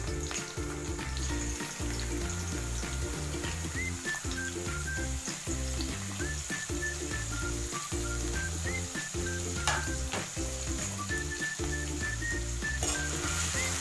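Garlic cloves and ginger fry steadily in hot oil for a chicken curry, giving a continuous close sizzle with background music playing throughout and no talking.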